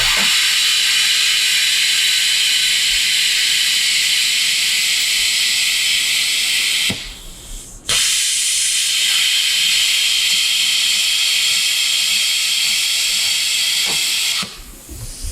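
An ESAB 230V plasma cutter gouging metal gives a loud, steady hissing roar that runs on, breaks off briefly twice, and resumes, with no voices over it.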